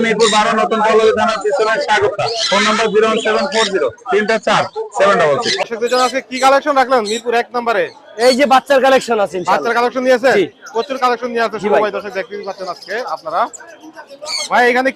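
Shrill squawks and chirps from many birds, including parrot chicks, fill the busy Mirpur 1 bird market in Dhaka, Bangladesh, while people talk loudly over them throughout.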